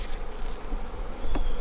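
Honey bees buzz steadily around an open beehive during a spring hive inspection, a continuous close hum with no voices.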